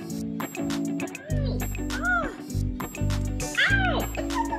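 A kitten meows repeatedly and loudly up close, with rising and falling cries in a broken rhythm, while a person's voice talks alongside.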